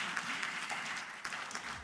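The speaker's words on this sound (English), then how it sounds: "A round of applause to our very last speaker." A forum audience applauds a session speaker: steady, fairly faint clapping that stays even through the short stretch, heard alone.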